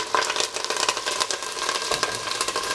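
An ingredient hits hot oil for a fish curry and sputters, a close, crackling sizzle with rapid popping splatters that continues steadily for a few seconds.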